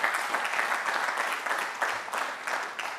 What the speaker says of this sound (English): y'all ought to give her a round of applause